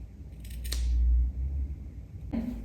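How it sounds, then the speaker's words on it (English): Two quick snips of scissors notching stitched cloth, close and crisp, separated by a short pause, with faint rustling around them. "Take your scissors and notch it like so."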